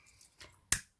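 A single crisp snip of scissors cutting through 3-inch ribbon while making a hair bow, close and sharp after a couple of faint handling rustles.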